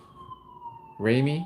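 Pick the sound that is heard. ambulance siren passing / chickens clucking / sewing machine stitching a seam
ambulance siren passing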